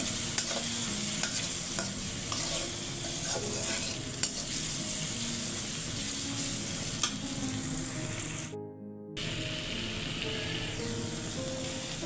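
Spices for a fish curry being stir-fried in a pan, a steady loud sizzle with scraping and stirring strokes throughout, briefly cutting out near the end before resuming.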